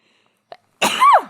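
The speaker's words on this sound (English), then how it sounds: "When you least expect it, a sneeze." A single sharp sneeze close by, preceded by a short intake of breath.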